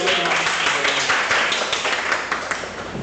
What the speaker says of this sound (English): give him some round of applause